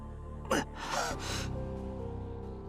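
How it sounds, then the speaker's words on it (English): A single sharp intake of breath voiced as a startled gasp in an anime visual novel, close and brief, with a softer breathy follow-up and low background music underneath. "I let out a gasp."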